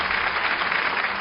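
Audience applause in a hall at an award ceremony for a Suzhou television storytelling program, greeting honored pingtan performers. Even, continuous clapping from a crowd, without voices, through the whole short stretch.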